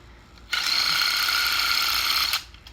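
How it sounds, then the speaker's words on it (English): A power drill whirs in one steady burst of just under two seconds, driving a socket onto a knob lobe, starting and stopping abruptly, close and loud with no talk. "let the drill do the rest."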